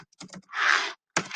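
A few quick keystrokes on a computer keyboard entering a command in drafting software, close and fairly quiet, followed by a brief burst of noise and a final sharp clatter of keys.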